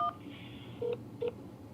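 Two short telephone keypad tones, a button press in an automated phone menu, sound as clean beeps about a third of a second apart over a faint line hiss, following the tail of a recorded greeting.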